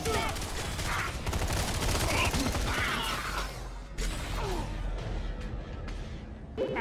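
Gunfire from the LawBreakers online shooter game crackles in dense rapid bursts alongside mechanical clicks and reload clatter, loud and busy for several seconds before thinning out toward the end.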